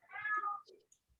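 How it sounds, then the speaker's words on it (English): A house cat gives a single short meow, clear and close, trailing off into a faint softer sound and then quiet. "My cat needs to meow."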